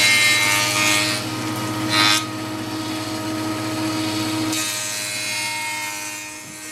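A jointer cutting along the edge of a wooden board, a loud, steady whining drone that deepens and roughens while the board feeds through, then returns to a plain motor hum, with no one talking.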